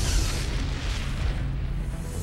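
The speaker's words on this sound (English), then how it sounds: "here's a token shot of an Exocet missile hitting a less stealthy ship" An Exocet missile strikes a ship at sea, a loud, sustained explosive roar with heavy low rumble and no voices over it.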